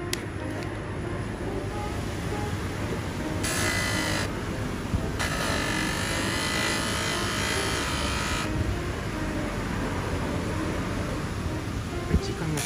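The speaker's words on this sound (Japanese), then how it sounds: "もうこっちのペダルの方もちょっともう一回じゃあ磨いてみたいと思います" Electric polishing tool grinding rust off a piano pedal, a steady close motorized whine that holds throughout, with brighter high-pitched bursts where the tool bears on the metal.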